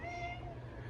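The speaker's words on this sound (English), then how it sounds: "that's my cat" A cat meows once in a drawn-out, wavering cry, fairly close, over a steady low background hum.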